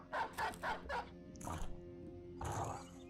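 Dogs in the video game Battle Brothers give a quick run of four sharp barks, then a yelp and a drawn-out whining bark, close and moderately loud.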